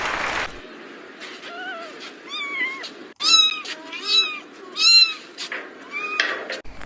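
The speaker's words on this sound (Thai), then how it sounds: "เป็นเสียงของแมวนั่นเองค่ะ" A cat meowing several times in a row, clear close rising and falling cries with short pauses, the loudest calls in the middle, heard alone in a quiet room.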